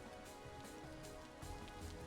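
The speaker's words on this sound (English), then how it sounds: "I can't really see it too well because it's raining so hard" Heavy rain falls in the video game Vintage Story, a steady, dense patter and hiss that stays quiet and unbroken throughout.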